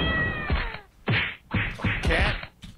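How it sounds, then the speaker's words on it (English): Cartoon cat meows from the party video game Pummel Party, several short bright mews in a row mixed with thwacking hit effects and game sounds, fairly loud and close. "Cat."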